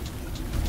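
Rain falls on an outdoor dove-hunting morning as a brief, steady hiss of drops with a low rumbling background, fairly close and with no voices.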